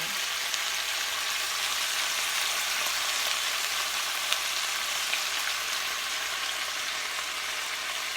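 Jerk chicken sears in a deep pot with a steady, dense sizzle and faint crackling pops, continuous and fairly close throughout, with no talking.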